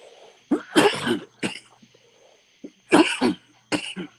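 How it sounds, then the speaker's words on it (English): A man coughs in a few hoarse, rough bursts, close and fairly loud, with brief pauses between the fits. "Heard that coughing."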